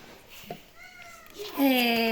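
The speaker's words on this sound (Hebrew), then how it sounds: "סליחה, החתול רחוב נכנס לי פה." A stray cat that wandered indoors meows twice, the second call longer and louder, with faint background noise and a brief voice beforehand.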